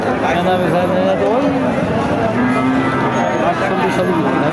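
Cattle moo repeatedly at a busy village cattle market in Chougachha, where local and crossbred cattle are sold, with a steady crowd murmur running underneath the close, drawn-out calls.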